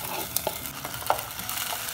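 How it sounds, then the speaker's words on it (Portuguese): Raw ground beef going into a cooking pan, with a few soft scrapes and light clinks against the pan before faint stirring and a low sizzle, close and quiet. "Na panela, já coloco aqui a carne moída"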